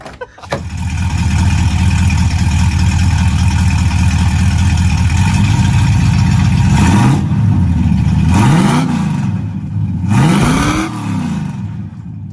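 The deep, throaty exhaust of a 1971 Camaro with an X-pipe dumped before the rear end idles loudly and steadily up close, then blips into a few short revs near the end.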